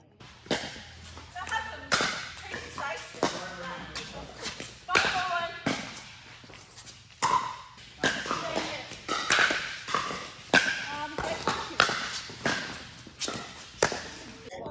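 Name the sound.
pickleball paddles hitting ball during rally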